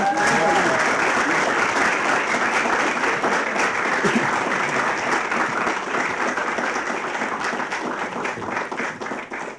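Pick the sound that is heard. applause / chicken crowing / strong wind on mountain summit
applause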